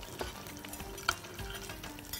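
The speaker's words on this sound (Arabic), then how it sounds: "هنحط الموز مع الزبدة كده وحبة السكر." Banana pieces cooking with butter and sugar in a pan give a soft, steady sizzle with faint stirring, quiet and close, with no talking.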